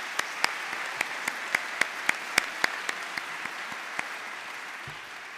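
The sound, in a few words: audience applause at hall of fame ceremony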